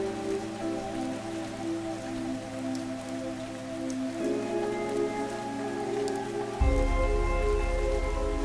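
Steady rain falls in the video game Fantasian Neo Dimension. A soft, continuous patter sits under sustained musical tones that shift midway and deepen near the end.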